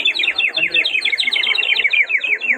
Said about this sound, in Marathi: अच्छा ही चिमणी आहे. हे बघा, याच्यामध्ये पाणी भरायचं.